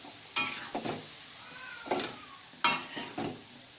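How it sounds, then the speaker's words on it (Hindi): A spoon stirs carrot halwa with added milk in a pan over raised heat, giving three or four soft scraping sweeps with light clinks, close and quiet, spaced over a few seconds. "वापस मैं इसमें थोड़ा दूध डाल रही हूँ और गैस बड़ा कर रही हूँ। अब इसे चम्मच से हिला रही हूँ।"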